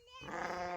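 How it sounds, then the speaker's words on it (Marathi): A single sheep from a grazing flock gives one short, clear bleat, close and loud, with no other sound around it. "मेंढरा का चालली होय"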